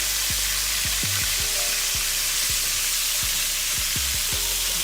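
Pork chops sizzle and fry steadily in a hot pan for smothered pork chops, a loud continuous hiss with periodic soft clinks and thumps of the utensil as pieces are turned.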